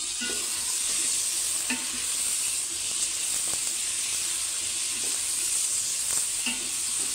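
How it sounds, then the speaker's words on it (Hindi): Beef liver (kaleji) frying in hot oil gives a steady, even sizzle and hiss that runs throughout, with faint scrapes of stirring now and then and no voices. "जिसको ना कलेजी को अच्छे से हमने पहले फ्राई कर लेना है।"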